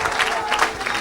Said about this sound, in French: Give him glory with a clap offering.